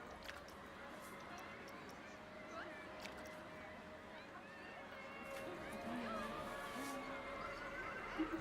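A horse neighs in the theme-park game Planet Coaster 2, where a juggler rides horseback. Several whinnies rise over a busy ambient park bed, moderately near and fairly quiet.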